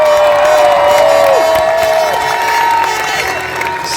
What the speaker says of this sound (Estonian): Let's give a warm applause once more for the Estonian drivers